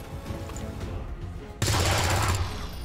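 A sniper rifle in XCOM 2 fires one sharp, loud shot partway through, and a crackling burst rings on for about a second after it over a low game background.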